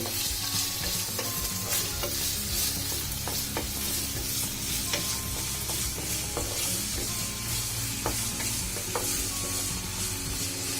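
Potatoes, cut thick, frying in a pan with a little salt, a steady dense sizzle throughout with occasional scraping and stirring knocks, close and continuous, no voices.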